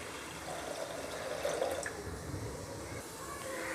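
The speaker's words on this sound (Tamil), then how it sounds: "அதில் வந்து 3லேருந்து 4 கப்பு வந்து நீங்கள் தண்ணி விட்டுக்கலாம்." Water is poured into a pressure cooker holding soaked toor dal, a steady, soft rushing splash that continues throughout at low level, slightly swelling near the middle.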